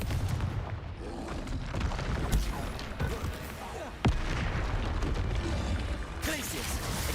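Spell effects from the Hogwarts Legacy video game crackle and boom in a dense, continuous barrage, with a sharp blast near the middle and a voice calling out between casts.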